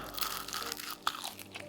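A single sharp crunch of a bite into a crispy air-fried chicken wing, close and brief, sitting in a low room hiss with faint chewing texture around it.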